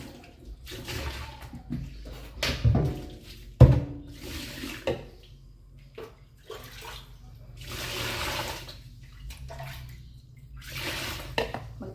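Water from a tap splashes in intermittent bursts as dishes are washed in the morning, with clattering plates and scraping between the gushes, fairly close and uneven in loudness.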